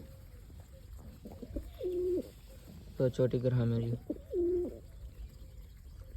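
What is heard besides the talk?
pigeons cooing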